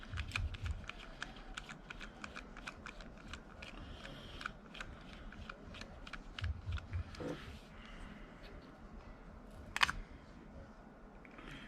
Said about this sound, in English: take this other side bolt off over here. These ratcheting screwdrivers are so nice.